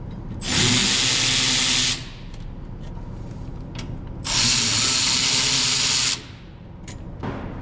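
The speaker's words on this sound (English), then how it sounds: "We're going to start by removing the caliper from the bracket by removing these two bolts here." A power tool whirs loudly in two bursts of about one and a half seconds each while removing the brake caliper bolts on a car, close up, with quieter clanks and handling noise between them.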